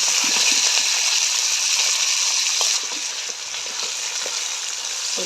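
Pasta, lentils, onion and garlic sizzle in hot oil in one pot, a loud, dense, continuous crackle close by that eases slightly halfway through, with light stirring scrapes and no talking.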